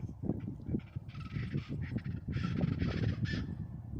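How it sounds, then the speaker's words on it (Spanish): A wild chachalaca calls near a lakeside dike, giving raspy, clucking bursts in a quick, irregular series at moderate distance over a rumbling, noisy outdoor background. "gallina salvaje. O bien chachalaca le llaman en Tabasco, Veracruz."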